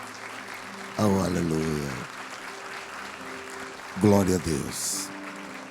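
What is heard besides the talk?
congregation applauding in church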